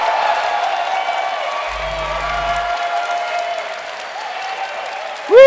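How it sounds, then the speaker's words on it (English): Sustained applause from a convention audience at QuakeCon 2024 honoring the id Software team, a dense steady wash of clapping with some cheering, running throughout before a sudden loud burst at the very end. "can everyone here from id Software stand up for a well-deserved round of applause?"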